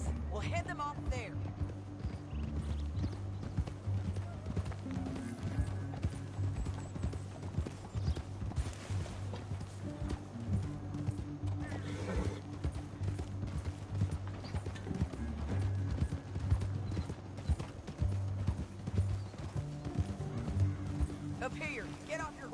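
Horses gallop in Red Dead Redemption, their hooves clip-clopping in a steady, close, continuous rhythm for the whole stretch over a layered game soundscape.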